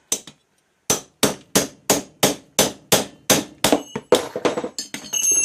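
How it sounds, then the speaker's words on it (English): Repeated hammer blows strike a chisel to knock a part loose, about a dozen sharp, loud metallic impacts in a steady rhythm after a brief pause, ending in a burst of rattling clatter. "chisel now again and just take that apart just the way it belongs."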